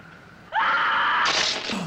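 A woman screams in the film The Projected Man: one loud, sustained shriek that jumps sharply in pitch partway through, then breaks off with a ragged tail.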